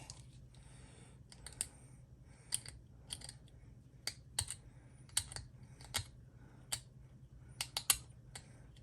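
Scraping at a plastic Curse of Frankenstein model kit part to remove imperfections: a string of sharp, close scratchy strokes in irregular bursts against a quiet background, with no talking.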